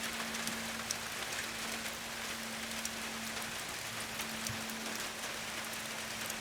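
Steady rain patters on a surface, an even wash of drops with a faint low hum beneath.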